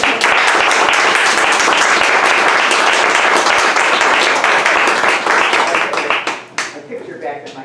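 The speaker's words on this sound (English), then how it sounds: "how about a nice round of applause?" A school audience claps in a sustained, dense burst of applause that carries steadily for several seconds before thinning out and fading at the end.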